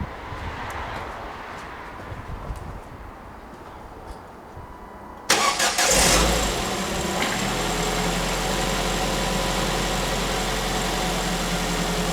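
A Sylva Mojo kit car engine cranks and catches with a sudden loud burst, then settles into a steady, throaty idle that continues to the end, preceded by a faint background hum.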